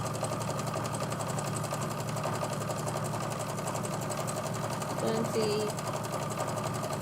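A sewing machine stitches with a steady, fast mechanical whirr and rapid rhythmic ticking, close and continuous throughout, while a person speaks briefly over it.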